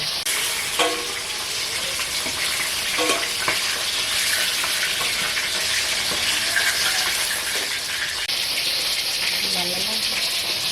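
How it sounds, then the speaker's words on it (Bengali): Rohu fish frying in hot mustard oil, a steady loud broadband sizzle running throughout with a few brief clinks and stirring sounds, close by and with no talking. "মাছগুলো একে একে ভেজে নেব। কড়া গরম হয়ে গেছে, এবার সর্ষের তেল দেব।"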